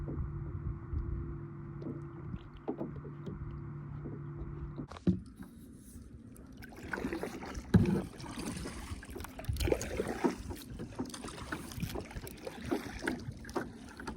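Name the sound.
kayak paddling on a lake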